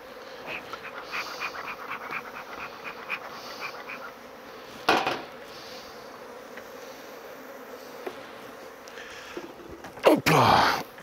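Honeybees hum softly around an open beehive, a faint steady buzz with a few brief clattering knocks and handling noises, one loud scrape near the end.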